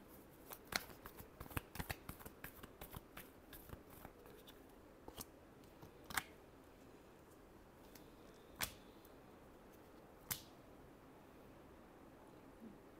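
Deck of tarot cards being shuffled by hand, a run of quick crisp riffling flicks at the start, then a few sharper isolated snaps spaced out over a quiet background.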